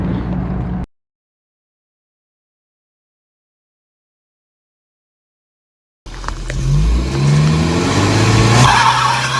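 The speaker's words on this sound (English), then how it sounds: "So it does a burnout" A classic Volvo 240 does a burnout. A brief burst of engine noise cuts to silence, then loud, close tire squealing and engine roar carry on steadily for several seconds.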